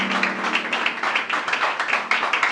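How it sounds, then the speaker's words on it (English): A church congregation at a thanksgiving service claps hands in a lively, fairly regular rhythm, close and loud, with a low sustained tone beneath the claps. "Sit down and clap hands for Jesus."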